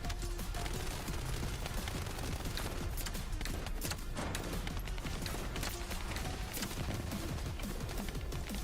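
Rockets and weapons fire in The First Descendant in a dense, relentless barrage of loud blasts and crackling impacts with no pause.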